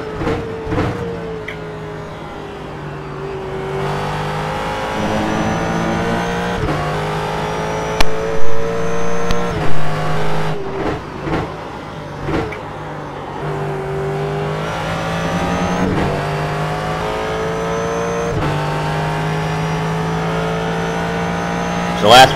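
Race car engine from the iRacing sim racing game, revving loud and steady with repeated upshifts and downshifts, pitch climbing and dropping through corners, with a few brief louder bursts midway.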